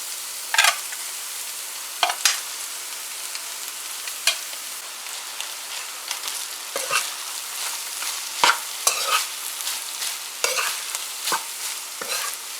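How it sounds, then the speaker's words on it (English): Egg fried rice with seasonings being stirred in a frying pan: a bright continuous sizzle broken by repeated sharp scrapes and clanks of the spatula, close and loud. "So you want to mix everything in once you add the rice, so the seasonings and the egg doesn't burn at the bottom."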